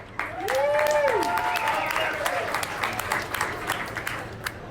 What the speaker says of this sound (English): Y'all give him a round of applause and cheer him on.